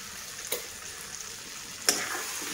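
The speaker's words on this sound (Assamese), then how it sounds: "অকণমান ভাজিম কাঠআলুখিনি, 2 মিনিটমান সময় ভাজিম" Quiet, steady sizzling of greater yam pieces frying in a pan, broken by two brief scraping clicks of stirring.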